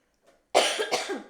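Close, loud coughing breaks out after a quiet moment, a rapid string of three or four rough hacks.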